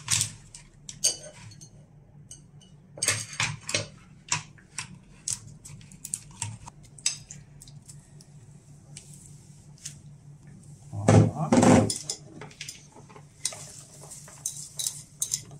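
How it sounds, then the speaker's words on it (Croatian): A knife cuts boiled eggs into rounds for potato salad, with sparse light taps and clicks on a board and one louder, longer burst of cutting and handling partway through. "Da isečemo jaja. Ovako ćemo samo na kružići."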